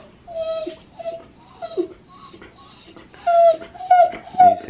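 A pet husky whimpers and whines indoors at night in a series of high, drawn-out cries, close and fairly loud, coming in short bursts with pauses, while someone talks softly in between.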